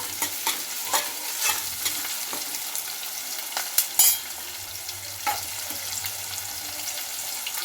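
Onions with green and dried red chillies frying in a pan for a tomato dried-prawn curry, stirred with a spoon: continuous sizzle broken by repeated scrapes and clinks, close and alone.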